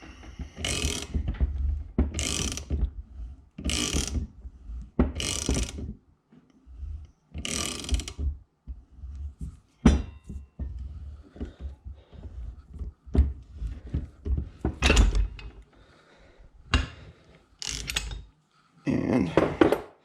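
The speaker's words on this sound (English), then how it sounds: "I'll take my ratchet and push that ball joint out." Ratchet pressing a ball joint out of a side-by-side UTV's suspension as a trailside repair: repeated loud, close clicking and mechanical bursts in a steady rhythm, with short pauses between strokes and no talking.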